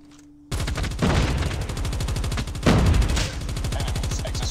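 Automatic gunfire in the video game Call of Duty Mobile bursts in suddenly after a quiet moment, then hammers on as a loud, rapid, sustained rattle with brief louder surges and no talking.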